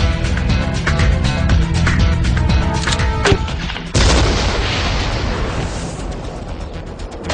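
A heavy boom and blast roar from a fired bazooka, loud and sustained, with a sharp second burst midway followed by a long rumbling decay.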